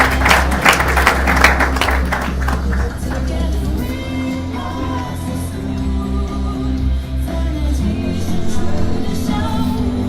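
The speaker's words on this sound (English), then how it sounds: "A round of applause for him as he makes his way." An audience at a partnership launch event gives brief applause that is loudest at the start and fades within a few seconds, followed by a steady room hum and murmur.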